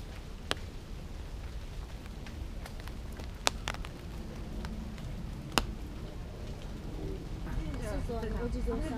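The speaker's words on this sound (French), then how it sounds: "c'est assez sympa d'avoir la pluie, ça donne un cachet en plus à la végétation" Light rain falls steadily over outdoor vegetation on a late-afternoon fair ground, a soft continuous patter with a few sharp drips and a voice speaking over it near the end.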